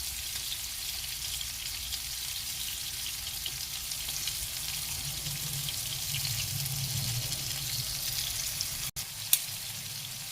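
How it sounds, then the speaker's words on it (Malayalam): Prawns fry in a non-stick pan, giving a steady, even sizzling hiss that runs on without a break, with a faint clink near the end. "അങ്ങനെ നമ്മുടെ ചെമ്മീൻ നല്ലതായിട്ട് മൊരിഞ്ഞു വന്നിട്ടുണ്ട്"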